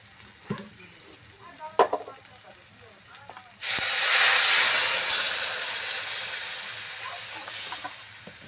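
Water is poured into a hot pan of young jackfruit cooked with fish heads. A few clatters give way to a sudden loud hiss and sizzle that holds and eases only slightly.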